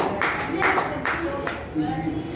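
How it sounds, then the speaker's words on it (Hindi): Students in a Marathi-medium school classroom clap in several short, loud bursts of applause, with a pause between each, and speech mixed in around them. "उसके लिए जोरदार तालियां बजाओ"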